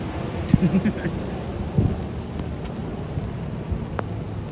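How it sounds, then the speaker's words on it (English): Steady, heavy rain hisses continuously, with a few low rumbles and scattered close taps. "It's been raining so hard."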